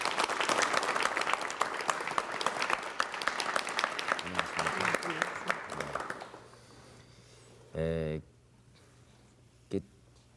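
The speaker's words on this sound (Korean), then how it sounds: "여러분 박수로 환영해 주시면 대단히 고맙습니다." A studio audience claps to welcome a guest on a 1980s Korean television talk show, dense applause for about six seconds that stops abruptly, leaving quiet room tone broken by a brief voice and a short knock.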